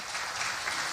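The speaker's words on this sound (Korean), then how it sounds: "박수 보내주세요" A talk-show audience applauds to welcome a guest, the former chairman of Samsung SDI and Nongshim, in a brief, steady wash of clapping with no break.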